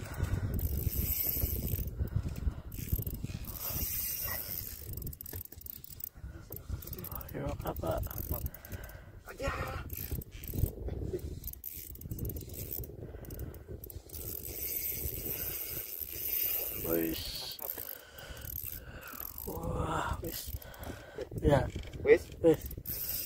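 A fishing reel ratchets and clicks as line pays out during slow jigging from a fishing platform in Indramayu, with mechanical whirring in uneven spurts and people talking intermittently over it.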